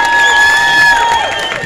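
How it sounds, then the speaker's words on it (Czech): Audience cheering and applauding for a children's performance, a loud sustained crowd roar with bright whoops, under a voice speaking over it. "děkujeme, že je provázíte potleskem"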